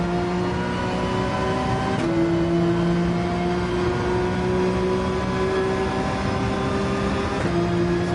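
Race car engine in Gran Turismo 7, a steady high droning whine that dips briefly as the car brakes and then climbs again under throttle, constant and close with no talking.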